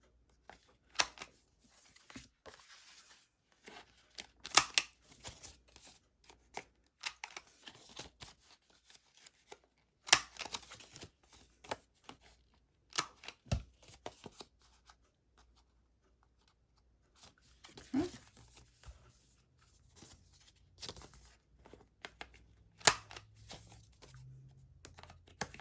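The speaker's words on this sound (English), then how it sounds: "I'm going to use my 1/2 inch, and I'm just going to round all my corners." Several sharp paper punches from a half-inch corner rounder clipping card corners, arriving in irregular clusters with short pauses and small rustles of paper being handled between them, close up and with no talking.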